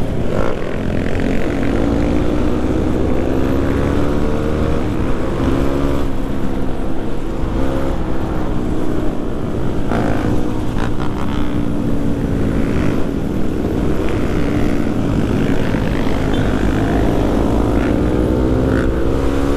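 A convoy of some twenty to thirty supermoto motorcycles rides along a road in East Java, their engines making a loud, continuous, droning roar with overlapping engine notes that rise and fall as the riders pass close by.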